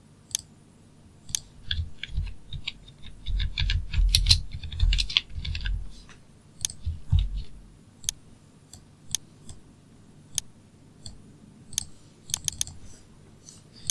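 Quick bursts of keystrokes on a computer keyboard, with a denser flurry in the middle and scattered single clicks after it, close-up and fairly quiet.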